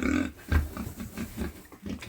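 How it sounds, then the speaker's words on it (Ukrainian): Several short, sharp squeals from young pigs, fairly close, with gaps of rustling and scuffling between them. "стрибають вже високі наші поросятка"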